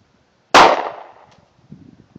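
A single sharp crack from a 9 millimeter handgun, fired outdoors, is loud and close, with a short ringing decay, followed by faint rustling.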